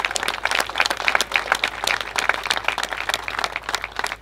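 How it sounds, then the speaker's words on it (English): Audience clapping at a memorial ceremony, a dense, continuous patter of many hands at moderate distance, fairly even in level with no voices over it. "give that woman a round of applause"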